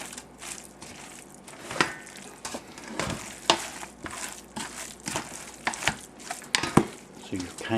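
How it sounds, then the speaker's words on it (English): Kimchi being mixed by hand with red sauce, a close, wet squelching and crunching that comes in uneven bursts, with the occasional knock against the bowl. "More red sauce. And of course, more mixing and blending."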